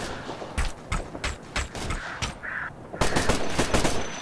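Automatic and rifle gunfire in the military video game Operation Flashpoint Red River, sharp repeated shots in ragged bursts, some close and loud, others farther off, ending in a dense volley.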